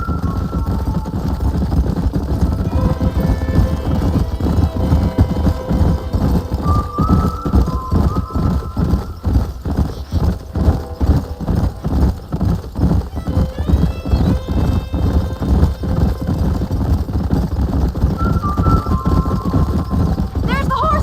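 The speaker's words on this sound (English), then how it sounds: "There's the horses!" A group of horses in Red Dead Redemption, their hooves clip-clopping loudly and steadily close by, with repeated neighs and whinnies rising over the trampling and voices heard at moments.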